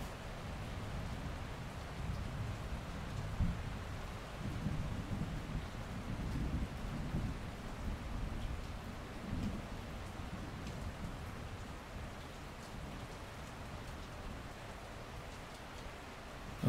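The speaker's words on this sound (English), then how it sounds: "As the thunder rolled," Steady rain falls in the Scottish wilderness along the North Coast 500 near the sea, with a low, continuous rumble of thunder beneath the hiss. No voices.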